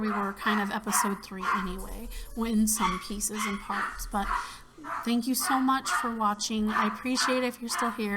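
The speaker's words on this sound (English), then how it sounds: "the dogs have realized somebody has come home" Several dogs bark and yip excitedly at someone arriving home, bursts of barking recurring throughout while a person keeps talking over the noise.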